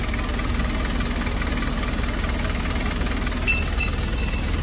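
A rebuilt Nissan QD32 diesel engine idles steadily after a full overhaul, a constant low rumble with a faint ticking clatter, close by and running on its own without any talk.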